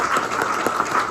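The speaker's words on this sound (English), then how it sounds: "One more round of applause for Lee Johnson." Audience at a youth development luncheon giving a brief round of applause, a short steady patter of clapping with no talk over it.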